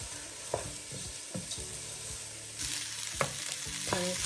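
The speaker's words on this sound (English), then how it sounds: "I saute it with a little bit of salt, just a pinch for taste and all that" Okra sautéing in a pan with a pinch of salt, a steady close sizzle broken by repeated utensil scrapes and knocks against the pan.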